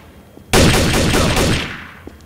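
A dense, loud burst of rapid gunfire aimed at house windows in the game Trouble in Terrorist Town, about a second and a half of sustained shots that fade out, with no talking.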